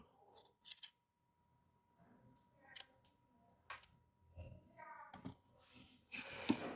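Scissors cut fabric for an inset dress pocket in quiet close-up, giving a handful of short, crisp snips separated by pauses, with soft handling rustles between them.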